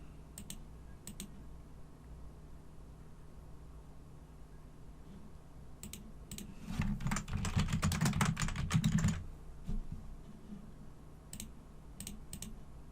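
Someone clicks and types on a computer keyboard while filling in an online form. A dense flurry of keystrokes forms a steady typing burst in the middle, with scattered single clicks before and after, close and fairly quiet.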